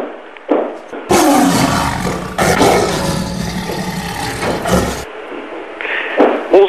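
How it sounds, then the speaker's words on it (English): A loud, sustained lion's roar rumbles and growls for several seconds without pause, filling the foreground before dropping away, with a few brief softer sounds at either end and no talking. "Sounds like a lion."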